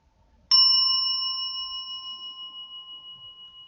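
A single meditation bell is struck once and rings out clear and pure, its tone slowly fading with a gentle pulsing shimmer in an otherwise quiet room.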